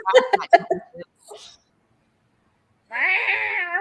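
Chattering voices, then after a pause a long, drawn-out, whining cat meow with a strained, complaining tone.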